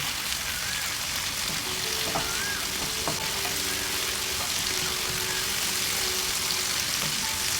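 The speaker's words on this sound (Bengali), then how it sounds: "এরপর দিচ্ছি একটি মিডিয়াম সাইজের টমেটো কোচানো। এবার সবটা খুব ভালোভাবে কষিয়ে নেব।" Chopped medium tomato sautéing in oil with spice paste for a Bengali payratali fish curry, a dense continuous close sizzle with a few faint utensil scrapes and a low background hum, no talking.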